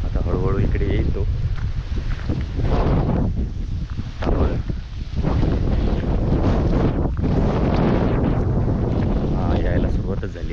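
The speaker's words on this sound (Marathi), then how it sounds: "वारा एकदम जोरातच सुटला आहे" Strong wind blows hard across open hills, roaring and buffeting loudly against the microphone in uneven gusts, with a voice talking through parts of it.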